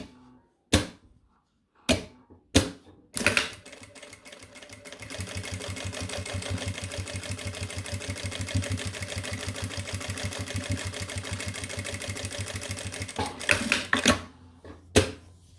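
A sewing machine topstitches a patchwork pouch, running in one steady, fast, close burst of needle strokes for about ten seconds, framed by a few sharp handling clicks before and after.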